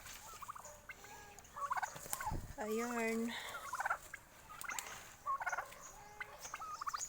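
Domestic turkeys gobble in a rapid warbling burst in the middle, with scattered fowl calls around it and a brief spoken word, at feeding time on a farm.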